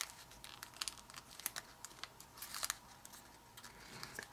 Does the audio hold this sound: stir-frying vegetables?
no